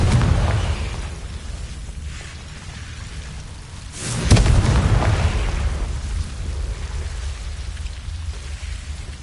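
Confringo blasting-spell explosions in the Hogwarts Legacy video game: a sharp, loud burst near four seconds over a rumbling, crackling game soundscape, with a smaller blast earlier and rolling debris-like noise afterward.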